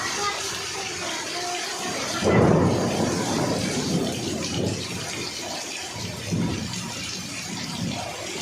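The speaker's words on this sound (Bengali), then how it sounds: "পানিটা হচ্ছে আর হালকা ঝড় দিচ্ছে।" Rain falls steadily in a light storm over a village in Paschim Medinipur, a continuous broad wash that swells in a louder gust a couple of seconds in and again later, with faint voices in the background.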